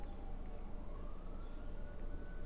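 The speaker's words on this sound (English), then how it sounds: "the third time in the last hour that I've heard police sirens." A faint police siren wails in the distance, its pitch rising slowly over a steady wash of background noise.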